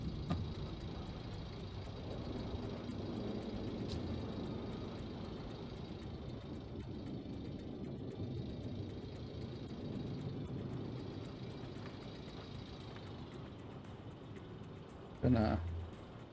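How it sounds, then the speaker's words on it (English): A vehicle engine in Gold Rush: The Game idles with a faint, steady low rumble that runs unbroken throughout, with one brief louder knock near the end. "how do we turn the engine off?"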